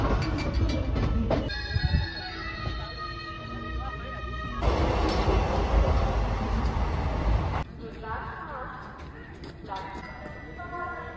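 A passenger train, the 12311 Netaji Express, rolls along with a continuous rumble and clatter inside the coach, the noise shifting in tone partway through, with people talking over it.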